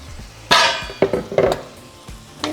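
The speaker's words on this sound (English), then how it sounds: "We're going to lightly fry it for a couple minutes." Beef for tinga is stirred in a hot pan, with several close scraping clinks of the utensil against the pan over a low sizzle, in short bursts.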